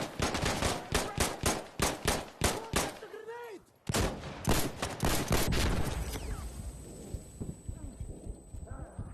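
Rapid gunfire from the Insurgency Sandstorm VR video game rings out in a close, loud burst of sharp shots, pauses for a moment, then continues in scattered, fading reports with clattering and a thin high tone.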